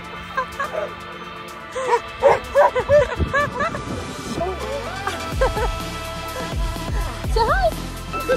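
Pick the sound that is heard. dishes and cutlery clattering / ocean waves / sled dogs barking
sled dogs barking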